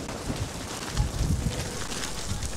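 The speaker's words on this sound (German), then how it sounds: "Und hier sehen und hören wir, wie eisig und hart der Wind war." Icy, hard wind buffeting outdoors, a steady roaring rush with gusty swells and microphone wind noise, loud and continuous with no voices.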